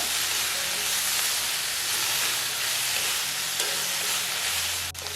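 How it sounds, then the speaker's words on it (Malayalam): Onion and tomato for chammanthi, with coriander leaves added, are sautéed in a pan, giving a close, steady hissing sizzle throughout with faint stirring scrapes and no talking. "ഇതും കൂടി ചേർത്ത് കൊടുത്തതിന് ശേഷം വീണ്ടും നന്നായിട്ട് നമുക്ക് എല്ലാം കൂടി ഒന്ന് വഴറ്റിയെടുക്കാം."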